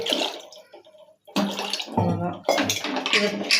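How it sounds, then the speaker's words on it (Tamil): Water poured into rice for pongal in a pressure cooker makes a steady splashing gush that comes in several close bursts, with brief pauses between pours. "இதை வந்து குக்கரில் வந்து போட்டுருவோம் தண்ணி வந்து கொஞ்சம் சேர்த்து வைங்க"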